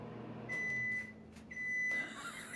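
A microwave oven hums steadily in a quiet room, with a high electronic whine that drops out and returns over a couple of seconds.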